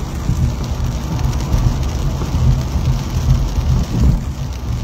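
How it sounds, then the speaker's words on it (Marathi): Heavy rain pours steadily onto the Pune–Bangalore highway where water has pooled on the road surface, a loud, dense, unbroken wash of noise with a low rumble underneath. "हा रस्ता पाऊस सुरू आहे, रस्त्यावरती पाणी साचलेलं आहे"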